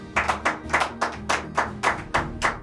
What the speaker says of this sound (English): You're all clapping for that.